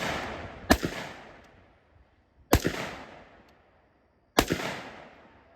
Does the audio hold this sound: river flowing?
no